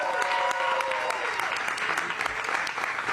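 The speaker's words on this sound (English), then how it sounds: "Let's have a round of applause" A round of applause from an audience, steady dense clapping at moderate loudness with a few sharper claps standing out and faint crowd voices beneath.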